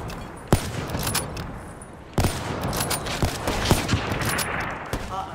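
Gunfire in a video game no-scoping sniper battle: a few sharp shots ring out over a steady busy game mix, with one loud crack near the start and another about two seconds later.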